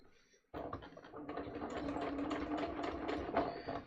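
Sewing machine running steadily while stitching pants fabric up toward the base of the fly, a continuous close mechanical whir with rapid needle clatter that starts abruptly after a brief quiet moment.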